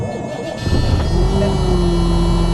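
M916A3 Freightliner 6x6 military truck with a Detroit Series 60 diesel engine cranking in 13-degree cold, then catching and settling into a loud, steady low idle close by.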